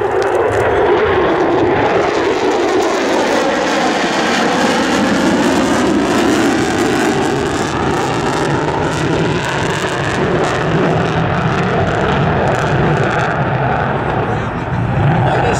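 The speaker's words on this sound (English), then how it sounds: "B-1B Lancer, the Bone." A B-1B Lancer bomber makes a flyby pass at the 2012 Joint Base Lewis-McChord air show, a loud continuous jet roar that swells and shifts in pitch throughout, with crowd or announcer speech under it.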